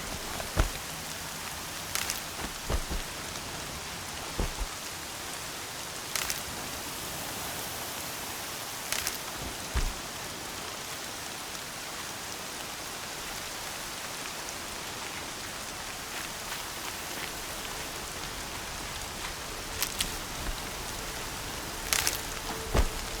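Heavy rain falls steadily in the video game Horizon Zero Dawn, a dense continuous hiss without voices, with occasional sharper splashes or thumps breaking through at irregular intervals.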